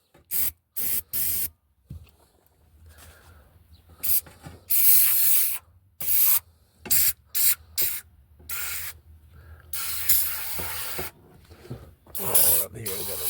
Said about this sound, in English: try not to spray on the spark plugs there